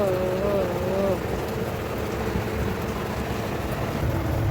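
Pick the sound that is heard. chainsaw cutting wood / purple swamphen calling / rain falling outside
rain falling outside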